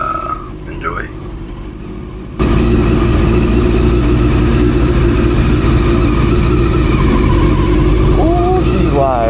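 Honda CBR400RR inline-four motorcycle on a sunset ride, quiet at first, then a loud, steady engine roar with wind noise that holds for several seconds.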